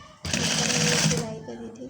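A sewing machine stitches fabric for a neckline, running loud and steady for about a second before stopping, with a quieter whirring and faint talk trailing after it.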